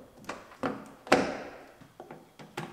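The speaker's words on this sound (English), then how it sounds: "Clip the front of the door handle in and slide the back in." Plastic door handle being clipped into an Acura RDX front door during a rebuild, producing a series of sharp clicks, taps and one firmer thunk spaced irregularly at close range, with no voices.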